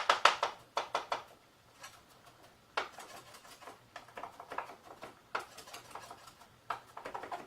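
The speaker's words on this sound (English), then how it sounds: "Cut this up a little bit smaller." Knife chopping boiled carrots on a cutting board for vegetable ramen soup, a series of quick, close tapping strokes coming in short irregular bursts with brief pauses.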